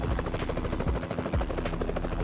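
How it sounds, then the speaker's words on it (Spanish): Helicopter rotors thump steadily in Euro Truck Simulator 2, a dense rhythmic chopping that sounds close and loud, heard alone with no talking. "nos van a dar las hélices del helicóptero"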